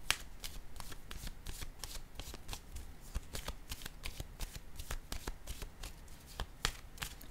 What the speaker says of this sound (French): Je vais déposer une carte ici, sur la destinée à l'envers.